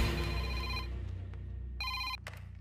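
A phone ringtone chirps in short, repeated electronic tones over a steady background bed of music and room noise in a Telugu comedy scene, fairly loud and close.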